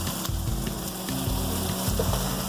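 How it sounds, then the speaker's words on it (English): Mushrooms roasting in a covered pot give off a steady, close sizzle and crackle with faint popping, and no one speaks. "Yeah, roast them together."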